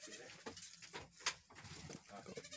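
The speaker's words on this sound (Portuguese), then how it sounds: "Dá uma passada aqui nos cabritos enjeitados antes de nós mostrar a cabra." Young goat kids in a goat pen on a dairy goat farm bleat in short, scattered calls at moderate distance, mixed with faint rustling and pen noise.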